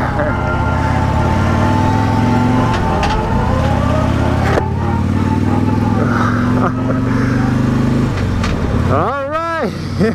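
A 2016 Harley-Davidson Tri Glide with the 103 engine riding on the road, its loud steady engine drone rising and falling with the throttle, ending in a swooping whine as someone talks over it.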